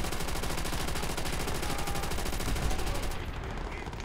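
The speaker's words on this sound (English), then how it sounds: "where's the machine gun? There's the machine gun" Sustained machine gun fire from Call of Duty: World At War, a loud, rapid, unbroken stream of shots that fills the clip before cutting off near the end.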